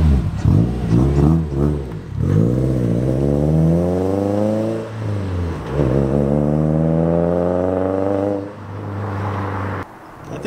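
Subaru WRX with equal length headers revving hard and alone, the engine note climbing steadily twice in long pulls, close and loud, dropping back between runs and settling to idle near the end.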